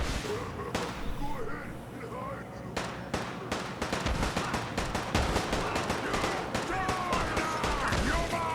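A gunfire barrage in Fallout 4 crackles in a dense, continuous run of rapid shots and blasts, loud and sustained, with a voice talking over parts of it.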